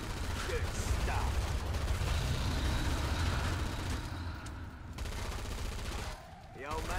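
Rapid gunfire in Killing Floor 2, dense bursts that rattle loudly over a rumbling background, easing briefly before the firing picks up again, with voices mixed in.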